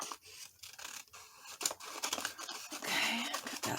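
Scissors snip and slide through craft paper in quick, uneven bursts, close and crisp, with rustling and scraping between cuts and no voice over them.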